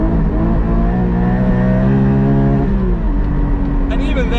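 A Porsche 718 Cayman GT4 engine howls at high rpm, a loud, sustained, tonal roar that shifts in pitch partway through.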